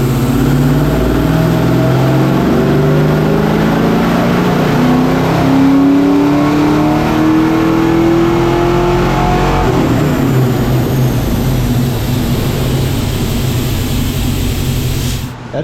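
A Ford Foxbody Mustang engine revs hard through a dyno pull with timing retarded for nitrous, a loud, sustained rising roar that holds steady before easing off near the end, with no talking.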